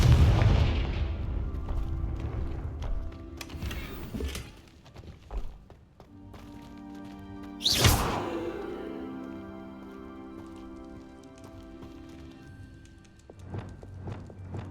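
A Confringo fire spell in Hogwarts Legacy: a heavy booming blast at the start fades into rumble, then a second sharp, loud explosion strikes midway and rings out over a lingering low drone.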